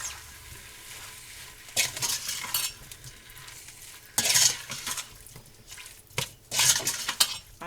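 Turkey pot pie filling is stirred in a pot with a utensil, giving soft wet swishes punctuated by three louder bursts of scraping and clinking against the metal, close by and without speech.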